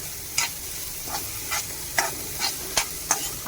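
Onion being fried and stirred in hot oil with garlic and curry leaves for a dried-fish onion chutney, a steady sizzle broken by about eight rhythmic scraping stirs, close and loud.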